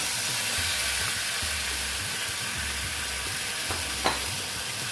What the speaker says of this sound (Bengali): এইবার আমি এই যে ঝিঙে আর আলুগুলো দিয়ে দিচ্ছি